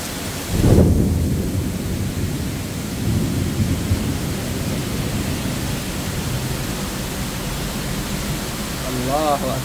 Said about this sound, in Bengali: দেখেন কি কঠিন, মানে কঠিনভাবে হচ্ছে বৃষ্টিটা।